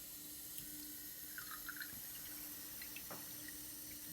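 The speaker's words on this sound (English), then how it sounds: "we're gonna slowly go to the sink and add more water to it." Tap water runs steadily from a kitchen sink faucet into a container holding an egg in salted water, a continuous close splashing stream with a few brighter drips, no talking.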